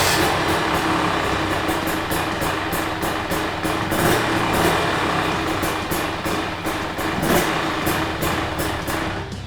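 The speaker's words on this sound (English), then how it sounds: "next thing you want to do is crank the bike over" A motorcycle engine runs nearby at a steady, rapid idle after cranking, its exhaust pulsing in a quick, even rhythm throughout.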